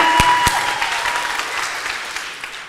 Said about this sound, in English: I ain't stopping clapping. Keep clapping.